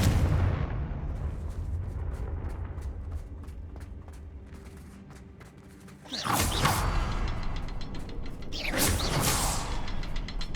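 Confringo blasting spell cast in Hogwarts Legacy, heard as two loud explosive bursts a few seconds apart, each with a sharp crackling onset and rumbling tail, following a quieter stretch of mechanical clicking.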